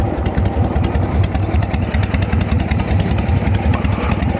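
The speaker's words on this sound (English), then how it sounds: "straight on the button with this, straight into a lovely even tick over." A 1981 Harley-Davidson FLHS shovelhead V-twin settles into a steady, even idle right after starting, a close, loud, rhythmic low thumping with mechanical clatter and no talking.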